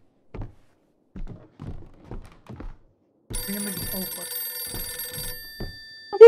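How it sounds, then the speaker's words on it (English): Telephone ringing in the horror video game Visage, a steady electronic ring that starts abruptly after a series of soft thuds and footsteps, then cuts off with a click. "Oh, the ringing phone."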